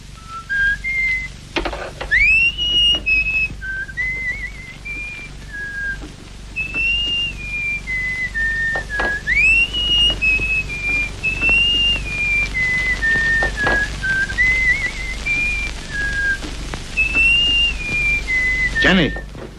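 Whistling inside a house, a clear melodic whistle that slides and warbles up and down, carrying on almost continuously from start to finish over a faint low background hum.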